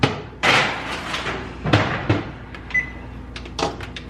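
A few hard clunks and bangs, like an oven door shutting and a rack sliding, with a brief beep and softer clatters after.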